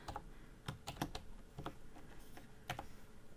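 Someone types on a computer keyboard while working a pre-algebra cylinder-volume problem, a quiet, close, irregular patter of key clicks with a few brief pauses and no talking.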